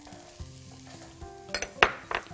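Chopped onion sizzling in a frying pan as the base for a shrimp and rice dish, a soft steady crackle with a few light clinks of a utensil against the pan near the end.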